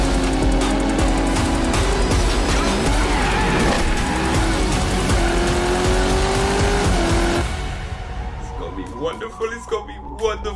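Racing cars in the game Test Drive Unlimited Solar Crown, loud roaring engines and squealing tires for about seven seconds before the noise drops off to quieter scattered sounds.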